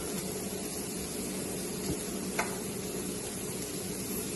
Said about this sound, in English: we're just going to stir this around and just wait a few more seconds